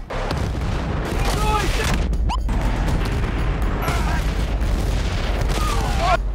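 Explosions and gunfire from the video game Battlefield: Bad Company, loud continuous booming blasts and crashing debris layered with rapid weapon fire, dense and unbroken throughout.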